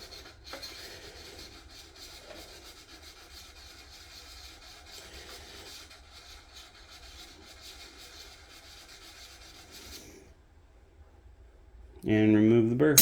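Steady scraping rub of a broadhead arrow tip drawn across a sharpening stone to remove the burr, continuous and close for about ten seconds, then a pause before a louder clatter at the end.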